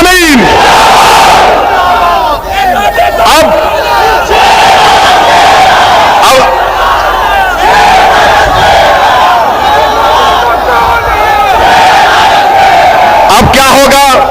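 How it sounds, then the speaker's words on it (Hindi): A large crowd roars a chanted slogan at a political rally in Uttar Pradesh, loud and massed throughout, with rhythmic shouted call-and-response surging near the end. "अगर सच कहा तो नारा लगा हमारे साथ, नारे तकबीर, नारे तकबीर"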